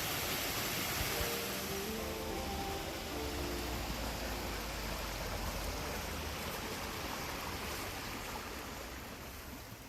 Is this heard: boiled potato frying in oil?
no